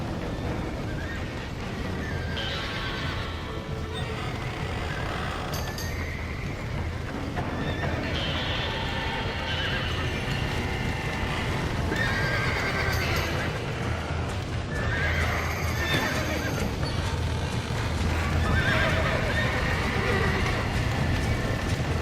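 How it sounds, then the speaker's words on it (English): Horses in Red Dead Redemption repeatedly neighing and whinnying over clattering, galloping hooves, a busy, loud stretch with several distinct whinnies and faint shouting voices in the mix. "Now get the horses out!"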